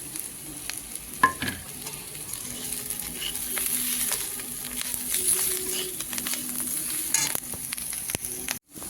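Spices and vegetables fry and are stirred in a pan for Maggi chow mein, a steady close sizzle with scraping stirs and a few sharper utensil knocks, with no voices.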